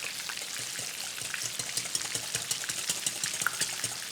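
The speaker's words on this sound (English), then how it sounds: "So just whisk this together" A whisk works through cream of mushroom gravy with milk and seasoning, giving a steady, busy wet scraping and sloshing that runs continuously at moderate loudness with no talk.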